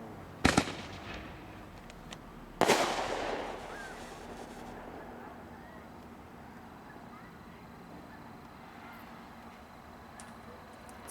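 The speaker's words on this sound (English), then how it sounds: "It's a gold medal artillery shell." Two sharp explosions from a gold medal artillery shell firework: a quick crack followed about two seconds later by a louder boom that rings off into a long fading rumble, with faint background noise after.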